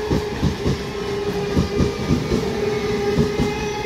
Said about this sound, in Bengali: ডাউন লোকাল ট্রেনটি